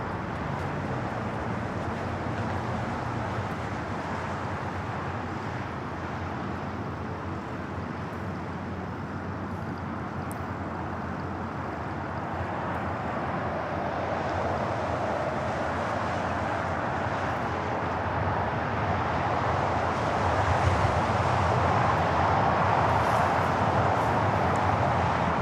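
An airliner arrives on the south side at LAX, a broad rushing roar building gradually and growing louder toward the end over steady ambient airport noise.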